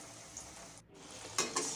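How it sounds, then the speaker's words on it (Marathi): Peanut-stuffed karanji pastries frying in hot oil over a medium flame sizzle continuously and close by, with a couple of brief louder crackling bursts near the end and no talking. "गरम तेलामध्ये आपण करंज्या तळून घेऊया"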